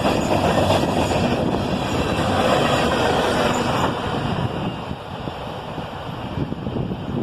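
CSX manifest freight train with tank cars at the rear rolling past, a loud steady rumble and clatter of wheels on rail with wind buffeting the microphone, easing slightly as the last cars go by.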